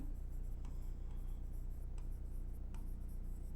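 A pen writes a maths equation on paper in quiet, close scratching strokes with a few sharper taps between strokes, with no talk over it.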